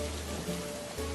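Steady rain falls outside during a monsoon-day scene at a masala dosa street food stall. It is an even, soft wash of patter with a brief dip near the end and no clear talk.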